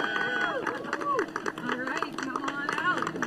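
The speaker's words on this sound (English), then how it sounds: "Some thunderous applause is always a good sign." Crowd clapping and cheering for the crew of a Blue Origin NS-28 capsule after landing, scattered outdoor applause heard under close, continuous speech and background babble.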